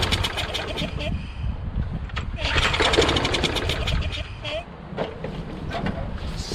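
A Briggs & Stratton Quantum engine on a Craftsman lawn mower with low compression and an auto choke is cranked repeatedly, giving rough, uneven chugging bursts and rattles up close that never catch and run.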